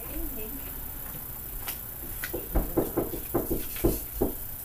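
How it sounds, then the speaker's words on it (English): Knocking on a door at home: a series of about eight firm, evenly spaced knocks in the second half, fairly close, after a quieter stretch with faint background sound. "someone's knocking on my door"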